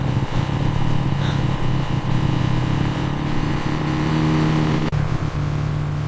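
Motorcycle engine droning steadily and loudly nearby as it rides off, a continuous buzzing rumble with slight rises in pitch and no pauses.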